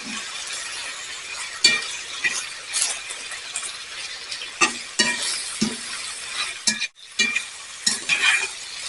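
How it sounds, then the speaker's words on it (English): Bacon fries in a pan on a small wood stove with a steady crackling sizzle, broken by close scraping, stirring and metallic clinks from a utensil against the pan. "Hopefully this bacon will grease up our pan, and we can use that for our potatoes."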